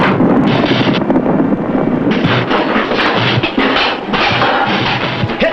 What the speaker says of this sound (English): Their ammunition's exploding.